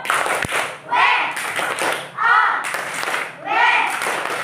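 Sixth-grade classroom doing a rhythmic clapping chant, with children's voices rising in three or four loud shouted bursts, each punctuated by quick claps and taps, close and lively.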